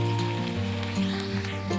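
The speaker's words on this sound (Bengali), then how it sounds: "কাঁচা গন্ধ চলে যাওয়া অবধি পেঁয়াজ, আদা, রসুন সব ভালো করে ভেজে নেব।" Onion, ginger and garlic paste fries over low-to-medium flame for a Bengali chicken malai curry, giving a steady close sizzle beneath sustained background music tones.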